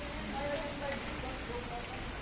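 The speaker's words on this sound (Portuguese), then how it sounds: "Aqui no Rio de Janeiro, muita chuva." Heavy rain falling in Rio de Janeiro on a morning, a steady dense hiss of rainfall filling the scene throughout, with a faint voice underneath.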